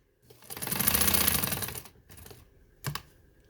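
A sewing machine stitching a cutwork design into fabric for sleeves and trousers runs in one steady burst of rapid, even whirring for about two seconds, then stops, followed by a short sharp clack; close by, no talk.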